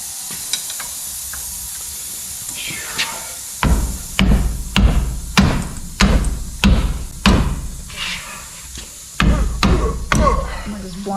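Repeated heavy hammer blows on the front wheel hub of a 2012 Chevy 4x4 during hub replacement in a garage, about a dozen loud metallic strikes in an uneven rhythm over a steady compressor hum, with some talk between swings.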